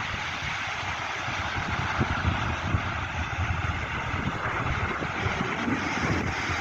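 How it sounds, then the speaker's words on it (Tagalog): Steady wind roars and buffets the microphone outdoors at White Beach in Basco, Batanes, with a low rumble of surf underneath and no voices. "medyo malamig pa, mahangin-hangin pa dito"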